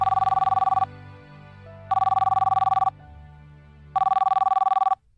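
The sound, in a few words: mobile phone ringing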